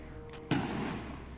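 Artillery firing shrapnel in Empire: Total War, a single sharp crack followed by a rumbling decay.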